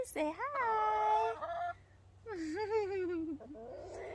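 Backyard hens give two loud, close squawking calls, each drawn out over about a second and separated by a short pause.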